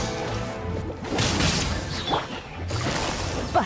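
A loud crashing smash with a sweeping whoosh as an illusion shatters in Genshin Impact, dense and noisy, followed by a second burst of impact noise.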